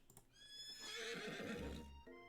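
Horse belonging to Colonel Sanders in a video game, giving one clear whinnying neigh over a few quick hoof clip-clops, close and alone.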